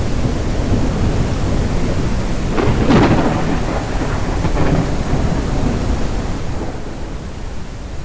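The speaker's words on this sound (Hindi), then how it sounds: "ये बारिश के साथ साथ तूफान भी आ गया है।" Heavy rain pours down in a thunderstorm in the farming game Ranch Simulator, with a loud rolling thunderclap near the middle over a constant, loud downpour.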